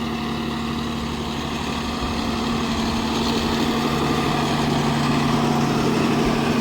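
Swaraj 969 FE CRDI 70 HP tractor engine running steadily under load while pulling a cultivator, a loud continuous diesel drone with a strong low hum, close and unbroken throughout with no talk.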